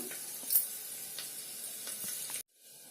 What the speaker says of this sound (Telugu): దంచుకున్న వెల్లుల్లిపాయలు వేసుకుందాము ఒక నాలుగైదు తీసుకున్నాను అవి కొంచెం దూరగా వేగిన తర్వాత